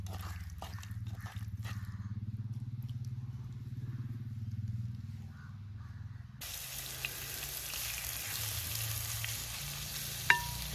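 Prawns fry in a little sunflower oil in an open-air Kerala kitchen, a low, steady sizzle with background rumble that brightens into a harsher hiss partway through, plus a sharp clink near the end.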